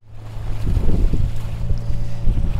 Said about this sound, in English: There's loads of noise, background noise with the waves, the engine, people on the boat talking.